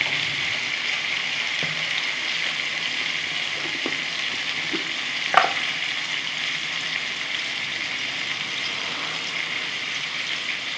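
Dal bori and drumstick stalks fry with salt and turmeric in a pan, a steady soft sizzle with a single sharp utensil clink partway through and no voices.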